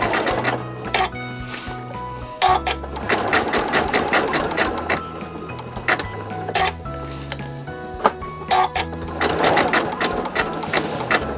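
Sewing machine stitching cord rope into an embroidered rope bowl, running in quick rattling bursts with brief stops and restarts, close and loud throughout with no talking.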